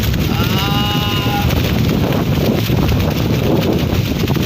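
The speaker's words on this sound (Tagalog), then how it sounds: "90 kph yung hangin dito." Strong wind of about 90 kph roars and buffets the microphone in a constant loud rush, with a faint whistling tone early on.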